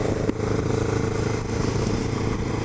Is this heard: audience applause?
no